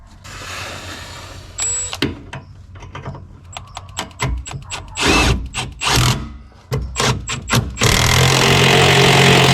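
Ratchet wrench tightening the strut bolts on a Chevrolet Tahoe Z55 during a suspension rebuild, loud close bursts of rapid clicking that start and stop, with metallic clanks between them and a sustained whir near the end.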